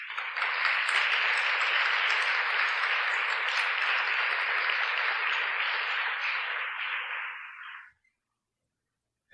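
A congregation applauding during a church sermon, a dense even roar of clapping that holds for about eight seconds and then cuts off abruptly into silence.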